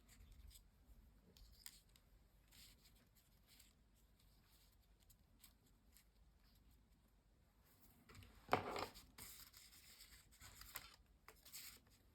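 Scissors cut paper for a small junk journal collage, giving quiet, faint rustling and light snips, with a cluster of crisper cuts near the end.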